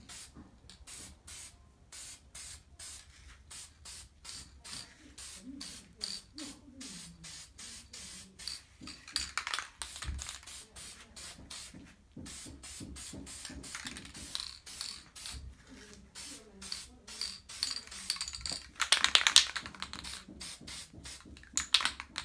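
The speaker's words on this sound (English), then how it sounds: "So we're gonna be spraying all around, not too dark, like a little bit light, not too light in the middle." Black paint from a spray can is applied to an air rifle in many short bursts, crisp hissing sprays separated by brief pauses, close and fairly loud, with a longer spray near the end.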